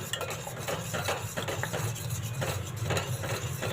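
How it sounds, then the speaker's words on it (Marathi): A spatula scrapes and stirs a thickening corn flour halva mixture in a pan over low heat, giving repeated close scraping and light knocking strokes at a steady rhythm with a soft background hum. "कलर चेंज होईपर्यंत ढवळत राहायचं"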